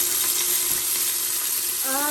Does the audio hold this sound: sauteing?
yes